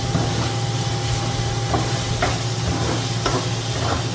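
Chopped onion sautéing in a hot pan as the base for chicken pastel, a steady close sizzle with occasional stirring scrapes running throughout, no talk.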